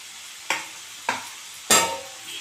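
Tamarind tossed into a pan of sautéing tomatoes and curry leaves for coriander chutney: three sharp stirring scrapes with bursts of sizzle, each fading quickly, over a quiet frying hiss.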